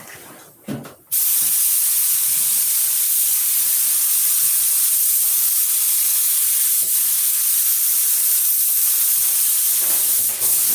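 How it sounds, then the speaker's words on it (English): A spray gun lets out a loud, steady hiss spraying dope, running continuously for several seconds after a brief moment of handling noise. "That's spraying all right?"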